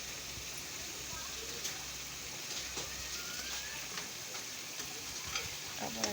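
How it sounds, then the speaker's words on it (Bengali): Prawns frying in a pan of spiced masala for a Bengali prawn malai curry, a steady low sizzle with scattered crackles and a few light clicks throughout. "এক এক করে চিংড়ি মাছগুলো দিয়ে দেব।"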